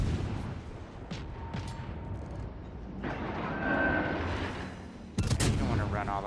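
Warship rear turrets firing in World of Warships Legends, booming gun blasts rumbling under game noise with a sharp loud salvo near the end.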